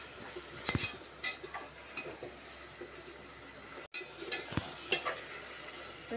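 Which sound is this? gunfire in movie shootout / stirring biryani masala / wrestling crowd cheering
stirring biryani masala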